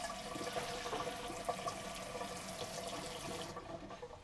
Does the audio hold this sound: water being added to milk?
yes